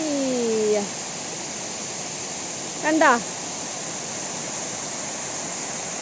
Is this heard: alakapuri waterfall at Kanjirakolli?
yes